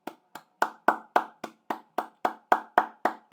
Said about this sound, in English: Can everyone just give Mpo a round of applause?